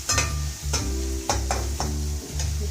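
Chopped onion stir-fried with spices in a pan for masala idli: a spoon scrapes and stirs in short repeated bursts over a low sizzle and a steady background hum.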